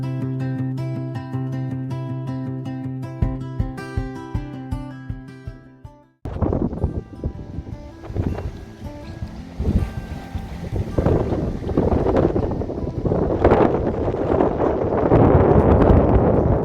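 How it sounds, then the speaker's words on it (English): After a short musical passage, outdoor wind rises into a loud, steady roar of gusts buffeting the microphone, swelling stronger toward the end. "As the wind picks up"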